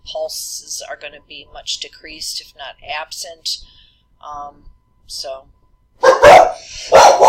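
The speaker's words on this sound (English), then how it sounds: "Oh, sorry about the dog barking." A dog barks in repeated loud bursts near the end, with someone talking steadily over the earlier part.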